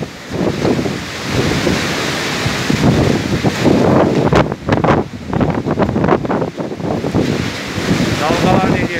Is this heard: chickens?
no